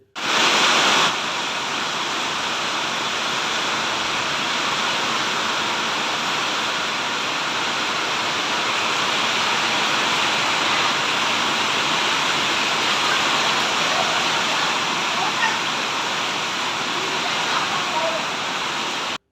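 Heavy rainwater gushes like a waterfall from the drainage pipes of a bypass flyover in Nagapattinam, a loud, unbroken roar that holds steady for the whole stretch.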